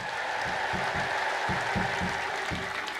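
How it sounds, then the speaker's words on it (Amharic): A church congregation claps and cheers in praise of God, with continuous applause under a steady high-pitched ululation and rhythmic low thumps, heard at a moderate distance. "እግዚአብሔርን እልል ብላችሁ አመስግኑልኝ"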